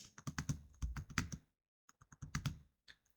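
Quick clusters of computer keyboard keystrokes while entering values into Excel cells, two bursts of close, crisp clicks separated by a short pause.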